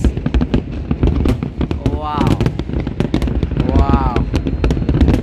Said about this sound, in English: Some curly fireworks, amazing.